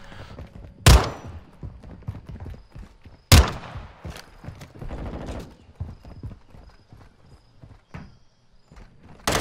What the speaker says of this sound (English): out snipe him with the sniper SMG